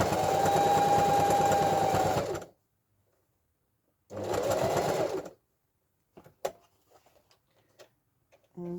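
Sewing machine stitching a letterbox pocket in fabric, running in two bursts, a long steady whirr and then a shorter one, with light clicks and handling taps in the pauses between.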